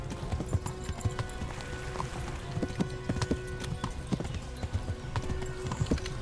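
Rapid hoofbeats of a galloping horse in the video game Kingdom Come: Deliverance pound on without pause, fairly quiet, with faint background noise.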